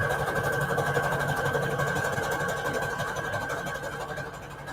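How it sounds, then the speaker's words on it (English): A sewing machine runs continuously, stitching an added piece of fabric onto paper scraps. Its fast, even needle rhythm stays fairly close and steady, easing off slightly toward the end, with no talking over it. "we're just going to keep sewing"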